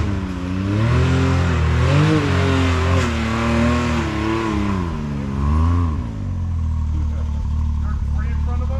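A Yamaha YXZ1000R off-road vehicle pulls in low gear on a Georgia trail, its engine droning loud and close with wavering revs that rise and dip, and voices talking over it.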